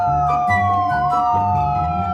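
An ambulance siren wails loud and close, a continuous high tone sweeping steadily with no break.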